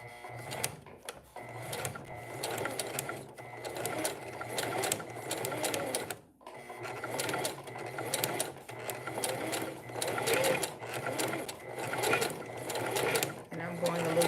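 A sewing machine stitches a straight seam in a steady, fast mechanical whirr with rhythmic clatter, pausing briefly midway before picking up again, close and prominent while a person talks over it.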